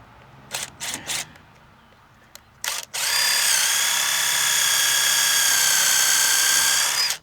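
A power drill bores a countersink hole for round inset spindles on deck stair rails. A few short clicks and taps come first, then a steady, high-pitched whine runs for about four seconds at close range.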